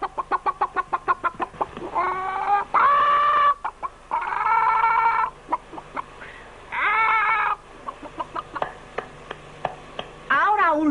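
A man imitates a hen clucking in a 1979 film, voicing a run of rapid, rhythmic clucks and drawn-out squawks that rise and fall, loud and close, with no other sound behind him.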